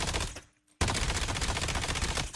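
Rapid automatic gunfire from a gun in a video game, a fast steady stream of close, loud shots that stops briefly and then resumes in a second long burst.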